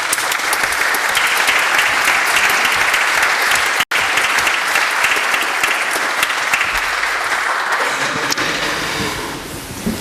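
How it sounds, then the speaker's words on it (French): An audience at a conference on the Franco-German partnership applauds Philippe Marre with dense, steady clapping that fills about ten seconds, loud and close, thinning slightly at the very end. "Je vous propose de le remercier et d'applaudir Philippe Marre."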